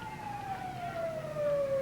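A fire engine siren wails at a parade, one steady descending tone sounding a little distant and moderately loud over crowd and street noise.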